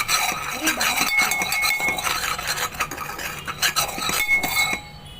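Spiced masala being stirred into fried potatoes for French fries, with a spoon scraping and clinking against the bowl in quick, uneven strokes, close and fairly loud.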